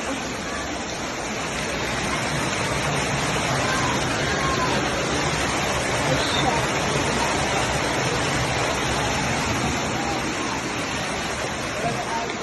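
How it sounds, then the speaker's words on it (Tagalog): Monsoon floodwater pours into a house in Baguio City, a loud, constant rushing roar of flowing water filling the whole clip, with faint voices under it. "Ala, pinapasok na kami ng baha."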